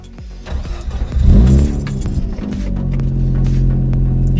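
Mazda RX8 engine fresh from a motor mount replacement, swelling briefly with a clattery rev near the start before settling into a steady idle hum, with no voices.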